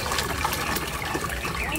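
Hot water pours off freshly boiled paneer as it is drained, a steady rushing, splashing stream that continues unbroken throughout.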